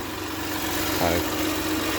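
A heat shield on a Honda Odyssey rattles faintly against a steady idling engine hum, with a brief low buzz standing out near the middle of the loop.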